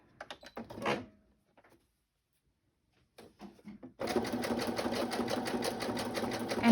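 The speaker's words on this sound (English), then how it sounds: "I think I need to clean my sewing machine because it seems to want to skip a stitch if I go too fast" A home sewing machine stitches a decorated journal page, a rapid steady mechanical run close to the mic after a few short bursts and handling noises, the machine prone to skipping stitches at speed.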